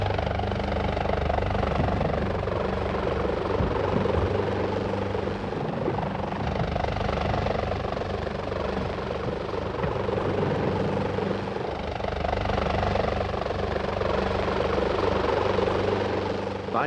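A military ambulance helicopter at the Battle of Dien Bien Phu drones steadily with a throbbing rotor chop and engine hum, loud and continuous throughout.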